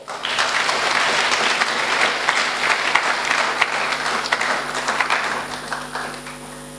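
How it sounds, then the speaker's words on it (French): A church congregation applauding loudly, dense sustained clapping from a large crowd that fills the room, steady and close throughout with no speech on top. "Est-ce que tu peux acclamer très fort?"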